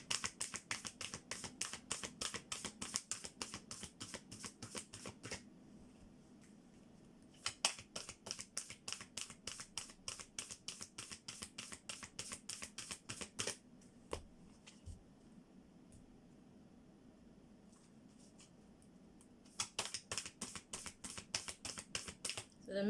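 A deck of cards is shuffled repeatedly in quick crisp riffling bursts, close and faint, with short pauses between rounds.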